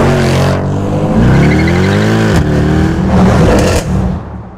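An AMG sports car engine roars close up, revving higher and higher with a rising pitch, a short break between pulls, then climbing again.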